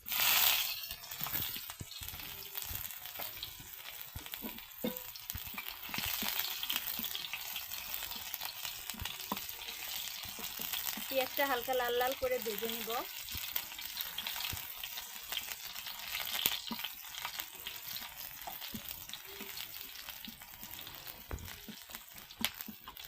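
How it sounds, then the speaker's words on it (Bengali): Steady sizzling of onions frying in hot oil in a wok, with occasional stirring scrapes and clatters; no voices. "কড়াইতে তেল দিয়ে দিছি এখন দিয়ে দিচ্ছি পরিমাণ মতো পেঁয়াজ"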